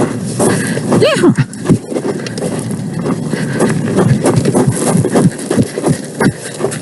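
A donkey's hooves clip-clop close by in an irregular walking rhythm, with light rattles and a brief vocal sound mixed in.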